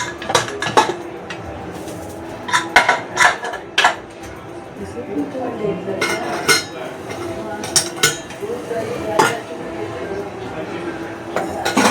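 A cooking pot set down in a home kitchen gives several sharp metallic clanks and clinks, close and fairly loud, among other utensil knocks, with talk in between.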